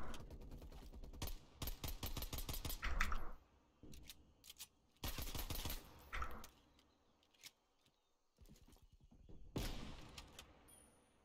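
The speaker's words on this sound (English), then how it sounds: "I'm trying to give you guys a test what the guns sound like." Gunfire in the video game Black Ops Cold War: several sharp bursts of rapid automatic fire, each a couple of seconds long, separated by short quiet gaps.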